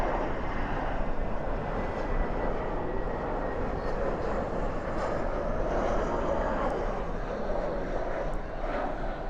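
Airliner landing at DFW airport at night with spoilers up and thrust reversers deployed, a loud continuous roar of jet engine noise that stays broad and steady throughout.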